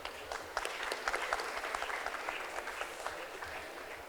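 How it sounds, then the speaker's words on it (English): Seated audience applause at a stock-trading investment panel event, dense clapping with distinct sharp claps sustained throughout, moderately distant and fairly quiet, no talking over it. "A huge round of applause for Shri Vishvesh Chauhan."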